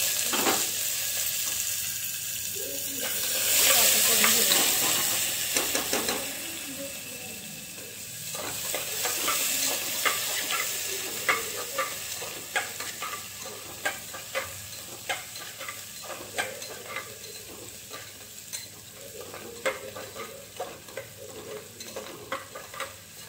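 Chopped onion, added after garlic for a vegetable biryani, sizzles steadily in hot oil in a pan while a spoon scrapes and stirs it in repeated sharp strokes. The frying is loudest early on, and no one speaks.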